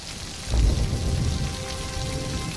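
Steady rain pours down in a dramatic film scene, a dense close hiss that swells after a brief moment and then holds evenly, with no voices.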